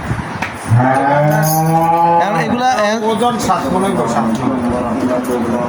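A Friesian cross cow moos loudly and long on a fattening farm, its low drawn-out call rising and bending before fading into general barn noise, with people talking faintly around it.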